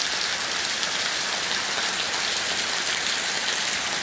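Heavy monsoon rain pours steadily in Colombo, a dense unbroken hiss of water that stays loud and even throughout with no pauses.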